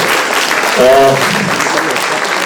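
Applause from a panel discussion audience for the panelists rises as a steady, close wash of clapping, with a voice briefly cutting through over it.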